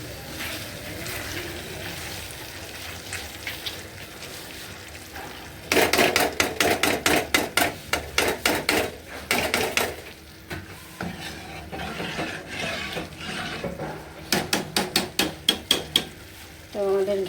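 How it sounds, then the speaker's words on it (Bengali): Reheated curry being stirred in a pan over a gas stove, a low sizzle underneath with bursts of rapid, rhythmic spoon knocks and scrapes against the pan coming in clustered runs. "তো এখানে এই যে তরকারি গরম করে নিচ্ছি। তরকারিটা নাড়াচাড়া দিই।"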